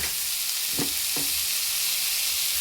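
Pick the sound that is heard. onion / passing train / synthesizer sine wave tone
onion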